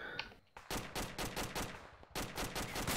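Rapid bursts of automatic gunfire in a multiplayer shooter game, close and loud, firing in repeated clusters of quick shots with a short pause midway, no talking over it.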